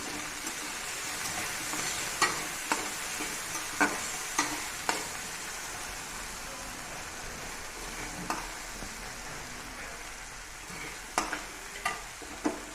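Potatoes being stirred in a frying pan, a soft continuous sizzle broken by a series of sharp spatula taps and scrapes against the pan, several in quick clusters near the end.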